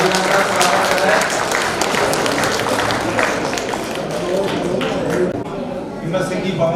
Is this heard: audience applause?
yes